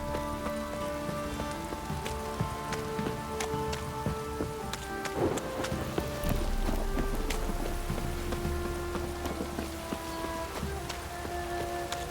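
Steady rain patters on surfaces throughout in The Witcher 3, with scattered drips and a low ambient hum underneath; no voices.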